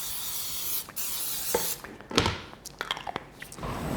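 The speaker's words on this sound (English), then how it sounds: "I'm going to spray that with some cooking spray" Short hissing bursts of cooking spray misted into a pan heating on the stove, the can running low, mixed with light clatter and scraping of cookware in a quiet kitchen.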